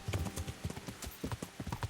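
Horse hooves clip-clopping in Kingdom Come: Deliverance, a quick steady rhythm of close, distinct hoofbeats at a brisk pace.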